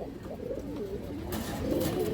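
Pigeons, including female flock pigeons, cooing close by in low, throaty, repeated rolling calls, several birds overlapping continuously, with faint rustling in the background.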